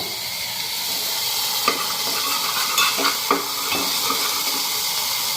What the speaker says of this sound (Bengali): এটা একটু হালকা ভাজা হোক, তারপরে জল দিব।